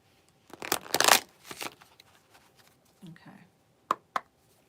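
Tarot cards being shuffled by hand, a few quick riffling bursts followed by softer shuffles and two sharp taps, close and fairly quiet.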